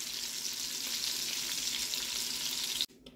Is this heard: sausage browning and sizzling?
yes